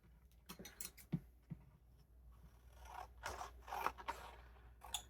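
Scissors trim the end off a journal made from dollar store envelopes. A few close, crisp snips and paper scrapes come in short bursts, with no voices.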